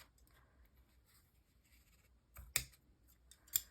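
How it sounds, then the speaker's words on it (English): Scissors trimming the ends of a ribbon for a paper craft bow, two quick crisp snips near the end over a very quiet background of faint rustling. "And then you can go ahead and trim your ends."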